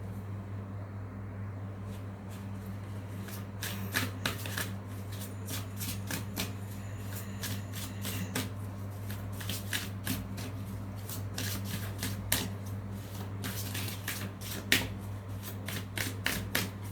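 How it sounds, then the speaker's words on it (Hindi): A deck of cards is shuffled repeatedly by hand, crisp riffling bursts and flicks coming in uneven clusters over a low steady hum, close and fairly quiet, with no talking. "इस डेक में से हम सिर्फ 2 कार्ड्स लेंगे, ओके। शफल करते, ओके।"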